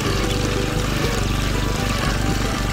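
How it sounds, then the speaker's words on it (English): Water gushes loudly and continuously from a homemade electric water pump, a dense rushing pour with a steady motor hum beneath it, close and filling the whole moment. "Oh, water's coming out."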